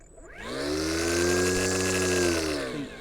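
A Stihl FSA 90R battery line trimmer spins up to full revs and holds there, an electric whine with clear harmonic tones rising quickly and staying steady close by before easing slightly at the end.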